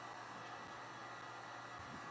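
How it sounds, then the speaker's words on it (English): A heat gun runs steadily throughout, a continuous loud airy whoosh like a hair dryer with no pauses and no talking. "Cammy's got some beef with that heat gun"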